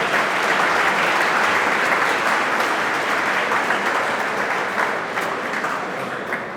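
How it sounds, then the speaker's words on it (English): An audience applauds a speaker for several seconds, with steady, dense clapping that fades slightly toward the end. "he deserves a round of applause"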